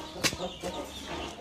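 Rooster valued at around 50,000, about ten months old: a few short clucks and a sharp squawk near the start, close and brief, over faint background murmur.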